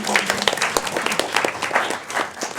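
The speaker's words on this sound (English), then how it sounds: "Let's clap for them." Loud, close audience applause for high school principals at a school district event, a lively burst of many hands clapping that carries steadily through the moment with no talk over it.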